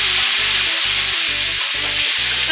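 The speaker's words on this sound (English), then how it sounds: "we're going to deglaze the pan" White wine hits a hot pan after searing pork and onions, producing a loud, steady sizzle with no talk.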